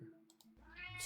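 A cat meows in the puzzle video game Her Trees Puzzle Dream, one rising cry near the end of a short, quiet moment with a couple of faint clicks before it.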